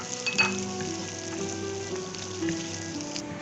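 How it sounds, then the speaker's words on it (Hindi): Two medium chopped onions and two chopped capsicums frying in a pan for chicken Manchurian, a steady soft sizzle with faint clinks of a utensil, over a constant background hum and no talking. "अब हम इसमें 2 मीडियम साइज के कटे हुए प्याज डाल देंगे और 2 अदद मीडियम साइज की कटी हुई शिमला मिर्च भी, और इनको अच्छे से फ्राई करेंगे"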